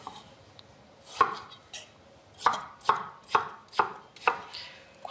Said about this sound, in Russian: Кусочки я режу не очень мелкие.